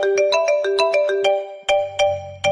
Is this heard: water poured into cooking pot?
no